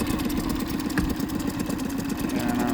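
A steady engine idles continuously at a low rumble, unchanging and close, with no voices, after injector cleaning and replacement.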